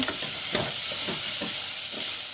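Onions frying in a little oil for a village-style brinjal bajji give a steady, close sizzle with a few soft scraping stirs, and no voices.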